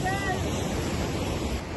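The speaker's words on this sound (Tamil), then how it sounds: "கடல் பார்க்காதவங்க பாத்தீங்கன்னா கடல்." Sea surf at the beach in Wellawatte, Colombo, a steady roar of breaking waves mixed with wind noise on the microphone, with a voice speaking over it.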